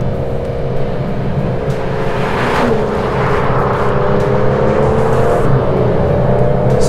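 An Aston Martin DBS Superleggera engine roars and revs under hard acceleration on a German road, a loud, sustained growl that rises and shifts in pitch, with no speech over it.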